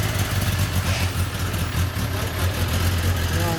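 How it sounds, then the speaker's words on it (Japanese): A Ducati Monster 796 motorcycle engine idles with a steady, low rumbling throb, loud and close, with no voices over it. "もうちょっとあのエンジン音聞かせてもらえますか"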